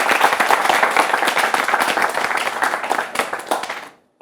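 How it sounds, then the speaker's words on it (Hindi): An audience applauds at a Hindi current-affairs television debate on terrorism, steady dense clapping from many hands for about four seconds before cutting off abruptly. "ताली हो जाए।"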